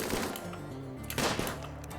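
Colonists fire guns in the video game RimWorld, giving a quick series of sharp, rattling shots with a few louder bursts over about two seconds, fairly close, with no voices.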